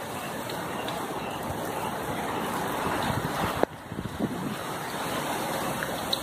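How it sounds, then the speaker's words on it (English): Steady outdoor wind noise from Hurricane Dorian rushing over the microphone, swelling into stronger gusts with a brief sharp buffet near the end. "Wind's picking up a little bit. We're having gusts now,"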